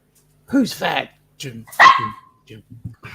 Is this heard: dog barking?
yes